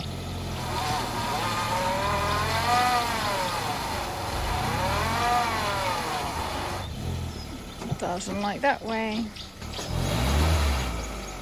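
A stuck hire car's engine revs hard on a safari outing, rising and falling in long sustained surges as it strains to pull free, then drops away while people talk nearby.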